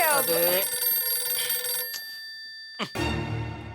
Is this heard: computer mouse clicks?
no